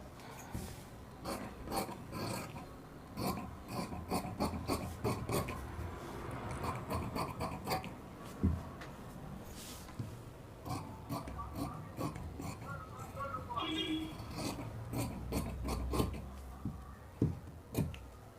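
Scissors cut through blouse fabric, making repeated close snipping and rasping clicks in an irregular rhythm, quiet, with soft rustling of cloth between cuts.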